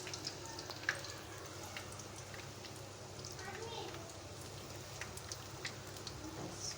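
Potato kebabs fry in a pan with a faint, steady hiss and soft scattered crackles, quiet and continuous throughout.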